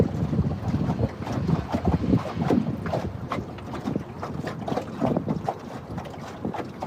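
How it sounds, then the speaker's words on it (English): Wind buffeting a microphone beside a river, uneven rumbling gusts that rise and fall continuously, loud and close, with a faint wash of moving water beneath and no voices. "Got a little breeze picking up. Hopefully it's not messing up the audio too much."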